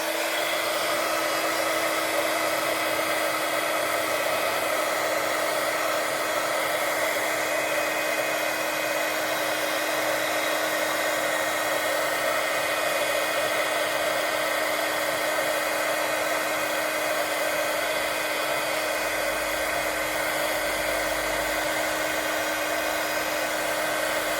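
A heat tool blows hot air to melt embossing powder in a craft session, a steady whirring fan drone with a constant hum that runs unbroken at close range with no talking.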